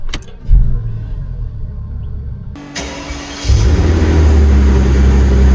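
A Mercedes 5.5-litre biturbo V12 car accelerates, its deep engine rumble swelling and staying loud and steady after a brief lull, heard close with no talking.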